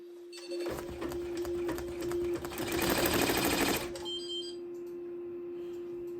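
Embroidery machine stitching on Minky fabric, a rapid mechanical chatter over a steady motor hum that builds, then cuts off, leaving a quiet electrical tone.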